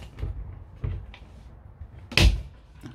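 A stiff wardrobe door in a motorhome creaks and knocks a few times, with soft thuds followed by a sharper bang near the end, close by and without talk.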